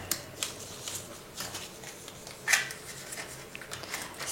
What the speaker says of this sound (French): je vais remettre ça dedans et je vais plier le billet devant